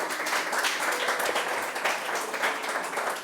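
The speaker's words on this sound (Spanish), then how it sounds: "Dale una ofrenda de palmas" A church congregation claps in loud, dense, sustained applause that fills the whole stretch evenly, with no pauses.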